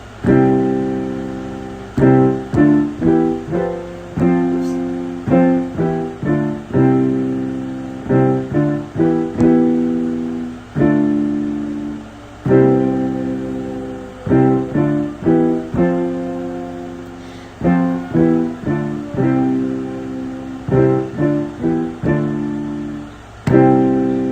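Piano chords are played in a steady sequence, each struck cleanly and left to decay, with short pauses between phrases and no voices.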